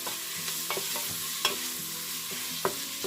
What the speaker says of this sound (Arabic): دابا راه تشحر ليا البصله